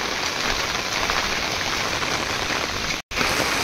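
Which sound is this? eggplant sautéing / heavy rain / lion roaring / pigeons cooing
heavy rain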